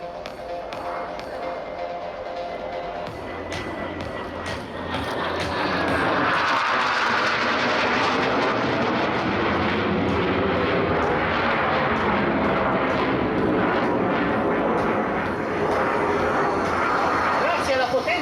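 An M-346 jet trainer with twin Honeywell F124 turbofans roars past at an air show, the engine rumble swelling loud midway and holding, under an announcer speaking over the public address.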